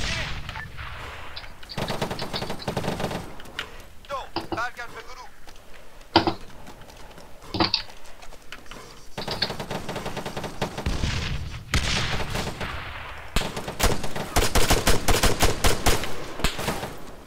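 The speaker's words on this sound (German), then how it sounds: "Also befeuer mein Haus." Bursts of rifle and machine-gun fire aimed at a house in the military shooter Arma 3, sharp cracks and rattling volleys in irregular clusters, some near and loud, others fainter, with brief voice chatter between them.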